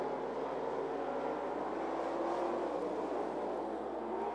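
Street stock race cars at 411 Motor Speedway roar in a steady, loud engine drone that holds without a break, a continuous pack of motors heard at close range.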